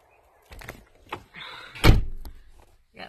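A door closes with a thud and slam while fabric is caught in it, with a few scrapes and knocks before and after; no voices.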